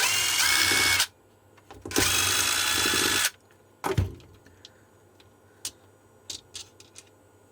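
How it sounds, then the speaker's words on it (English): A power drill backing screws out of a Viking 24V 4.4Ah battery pack, two loud, steady whirring runs of about a second each, followed by clicks and light handling knocks. "3 screws along the top"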